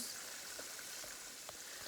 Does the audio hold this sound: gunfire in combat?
no